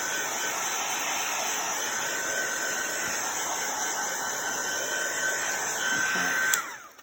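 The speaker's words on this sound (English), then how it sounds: "I'm just going to use my heat gun because I want to make sure that ink is dry" Heat gun blowing hot air to dry oxide ink on a stamped paper card, a steady loud whirring roar with a high whine, held for several seconds before it cuts off abruptly.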